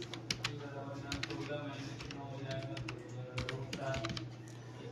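Typing on a computer keyboard while entering raw material stock groups in Tally accounting software, steady clicking keystrokes in irregular bursts under a constant low hum, with a voice talking over it.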